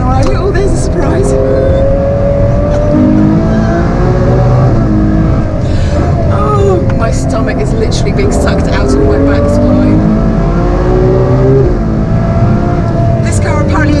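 A Ferrari special roars around the Goodwood Festival of Speed track, its engine loud and close from inside the cabin, rising and falling in pitch through acceleration and braking. An excited voice talks over it throughout.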